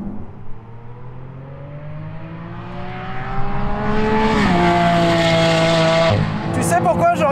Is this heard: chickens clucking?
no